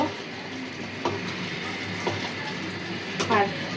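Sauce being mixed in a pan with black pepper while making chicken pasta with cashews, green chilies, onion and mushrooms, a steady scraping stir with a soft sizzle and a few louder utensil knocks near the end.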